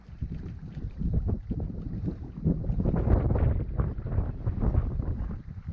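Strong wind buffeting the microphone in a continuous low rumble at a reservoir, gusting up and down throughout, with the faint sense of water nearby.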